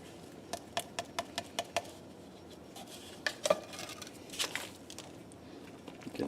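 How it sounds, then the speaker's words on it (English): Dental stone powder is mixed into water in a small container, with a quick series of six light taps and clinks followed by scattered scraping, knocking and gritty stirring sounds, close and quiet. "We'll add that powder to the water."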